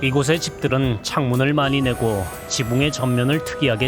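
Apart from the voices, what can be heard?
No distinct noise like a dog, phone or traffic.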